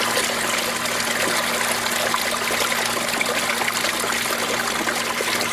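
Water pours steadily into aquaponics tubs in a desert DIY setup, a continuous close trickling and splashing rush with a faint low hum beneath, no talk.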